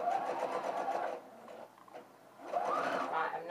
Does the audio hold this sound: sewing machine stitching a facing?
yes